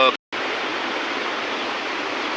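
Steady, loud rush of fast-flowing floodwater, a continuous broadband roar with a brief dropout near the start.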